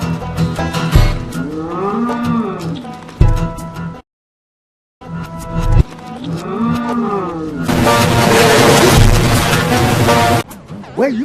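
Cows moo loudly and up close in several long, drawn-out calls separated by brief silence, with a burst of harsh noise near the end.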